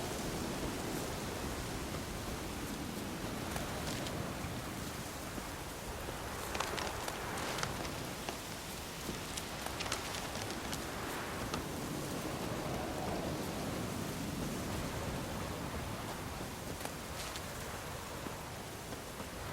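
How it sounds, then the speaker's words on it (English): Steady rain falls in The Witcher 3 video game as a dense, continuous hiss of drops on surfaces, moderately loud and unbroken for the whole stretch, with no voices. "Still raining, lovely."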